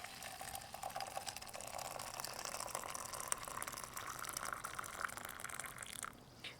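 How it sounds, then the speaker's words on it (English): Water is poured over fermented oolong tea leaves, a steady close trickling and splashing stream that runs evenly for several seconds before tapering off at the end. "Now we will pour in water. So this one is fermented, the developed oolong tea."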